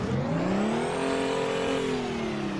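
A truck engine revs in American Truck Simulator, its pitch climbing to a peak and then sagging back, loud, close and unbroken.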